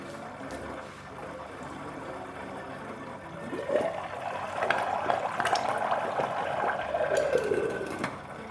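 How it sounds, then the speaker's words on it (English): Water bubbles and gurgles as it boils in a pan holding lard, growing louder and busier partway through, with a faint hiss underneath. "we'll pop that in a pan with some boiling water"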